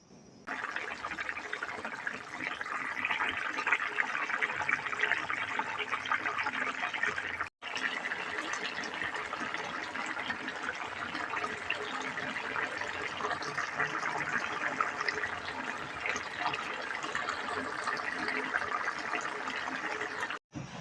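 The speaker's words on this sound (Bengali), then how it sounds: "তো এটার মধ্যে এখন জল দিয়ে দিব" Water goes into a vegetable and fish curry in a pan, a steady rushing pour with bubbling, close and fairly quiet, broken by a short pause partway through.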